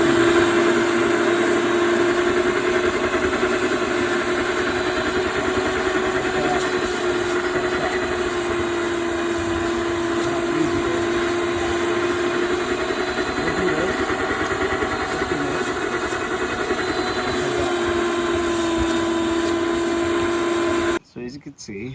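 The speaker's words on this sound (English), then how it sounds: "get a good shop vac, because you're going to be sucking some of this" A shop vac sucks old sand out of a Hayward pool sand filter, a loud steady motor roar with a constant whine running unbroken throughout, cutting off abruptly near the end.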